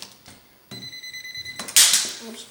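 A pencil voltage tester held to a live electrical outlet gives a steady high-pitched electronic beep for about a second, preceded and followed by soft handling clicks and a brief rustling noise.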